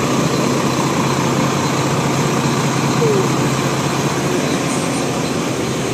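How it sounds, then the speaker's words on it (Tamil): A Volvo B11R multi-axle AC semi-sleeper coach engine runs steadily, a loud, continuous low rumbling drone heard close up without pauses. "And hears it guys, ஓல்வோ ஓல்வோ engine sound."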